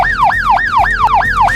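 An ambulance siren wails close and loud, its pitch sweeping up and down in a fast repeating cycle about four times in quick succession, with no other sound over it.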